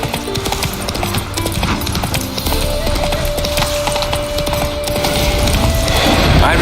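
Roach, the horse in The Witcher 3, clip-clops steadily along with hoof falls repeating through the scene, a brief whinny surfacing among dense game ambience and background sound.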